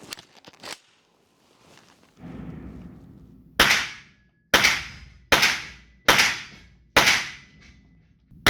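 Five sharp, loud gunshots ring out in an even rhythm at an outdoor shooting range, each with a short decaying tail, preceded by brief clicks and a low rumble.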